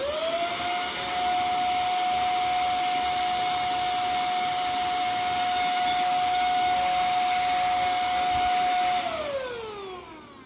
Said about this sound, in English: So let's test out this vacuum, and this is some baking soda.